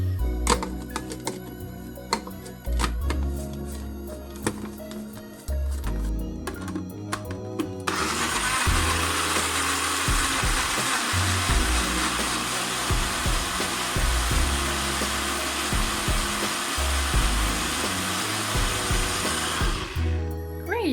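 A blender whirs loudly and steadily for about twelve seconds, puréeing pumpkin pasta sauce, after a stretch of kitchen clatter and handling noise, then cuts off sharply near the end.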